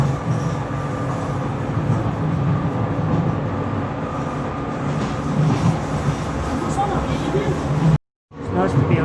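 Docklands Light Railway train heard from on board at night, a steady loud rumble with motor whine and faint rail clatter, a voice talking over it, and a brief cut to silence near the end.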